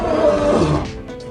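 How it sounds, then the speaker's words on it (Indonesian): A lion roars in a deep, loud, sustained bellow that fills the short span and then fades into rougher breathy tails near the end. "Salah satunya aungan singa."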